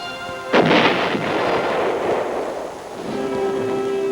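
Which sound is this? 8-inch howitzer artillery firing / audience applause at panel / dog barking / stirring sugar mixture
8-inch howitzer artillery firing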